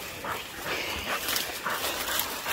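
Hunting hounds whimper and yip close by at the end of cane season on a bear hunt, with steady broadband noise behind them.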